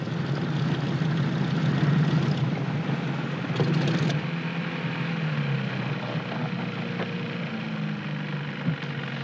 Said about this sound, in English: Landing a fully loaded PBY is more a test of seamanship than airmanship.